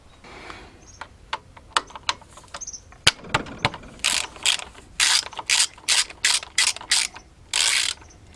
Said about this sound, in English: With a spanner of 13, you're gonna remove that bolt, okay, to disconnect that tensioner.